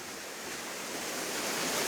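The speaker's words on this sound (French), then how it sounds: "Allez, on va descendre aller voir la cascade." A small waterfall on a tributary of the Rhône rushes as a steady broadband hiss, close and continuous, growing slightly louder over a couple of seconds with no voices.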